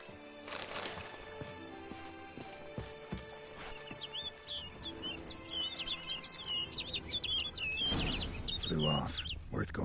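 A bird in The Witcher 3 chirps in a quick run of high tweets, amid horse hoof clops and ambient game sounds, with a brief burst of noise near the end.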